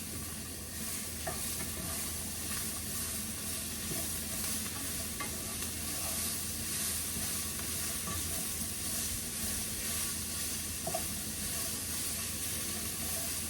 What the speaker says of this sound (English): I'm gonna get that onion nice and browned up